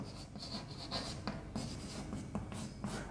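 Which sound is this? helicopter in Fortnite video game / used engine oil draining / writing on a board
writing on a board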